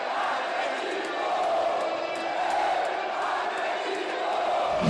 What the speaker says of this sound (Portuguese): Ficou famoso aquele canto, né? Eu acredito, da torcida do Galo